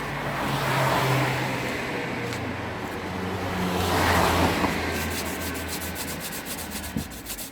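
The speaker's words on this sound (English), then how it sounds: "now I'm going to get my sandpaper" Sandpaper rubbed by hand along the plastic edges of a BMW F30 M rear bumper, a steady close scraping that swells and eases over several strokes, with no talking.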